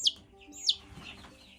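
Baby chicks peeping on a farm, including feathered-footed Brahma and red laced Wyandotte chicks, with two high, sharp chirps standing out near the start of a short, faint stretch of farmyard background.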